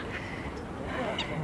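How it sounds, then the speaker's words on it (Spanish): Ducks and gulls squabbling on Alster lake, with a few brief quacking and squawking calls over a busy outdoor background. "Se pelean las gaviotas, los patos, todos."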